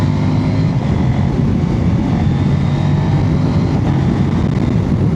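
Kove 800X GT motorcycle engine downshifting with its quick shifter while riding, heard as a loud, continuous, steady drone mixed with heavy wind rush, with no clear gaps between gears.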